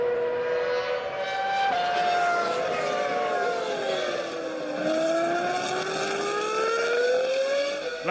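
Formula 1 race cars howl around the Magny Cours circuit at the French Grand Prix, a loud, continuous high-revving engine whine rising and falling through gear changes, with several cars overlapping.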